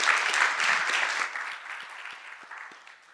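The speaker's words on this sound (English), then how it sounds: "let's give him a warm round of applause" Steady applause from a lecture audience, strongest at first and gradually thinning out toward the end.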